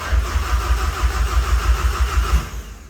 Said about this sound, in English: First attempt, the engine coughs but dies.